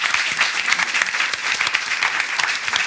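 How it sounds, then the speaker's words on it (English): An audience claps steadily and densely throughout, a continuous patter of many hands at a venue with no break. "Can we give her a clap?"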